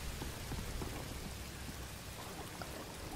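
Rainfall in Star Wars Jedi Fallen Order forms a constant soft wash of drops hitting surfaces, with a low rumbling undertone and faint scattered patters, heard alone without speech.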